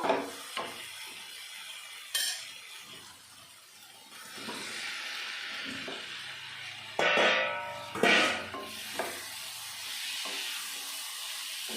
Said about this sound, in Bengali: এখন দিয়ে দেবো ভেজে রাখা আলু আর পনিরগুলো